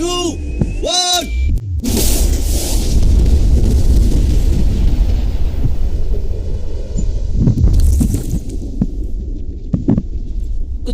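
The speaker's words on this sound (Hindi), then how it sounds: "लेकिन ये एक असली धमाका है" After a short voice-like tone, a massive real blast of bombs set around a safe erupts into a long, deep rumbling roar with further thuds and booms, loud and close.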